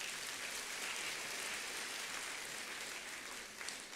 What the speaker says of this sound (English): Please give them a big applause, please.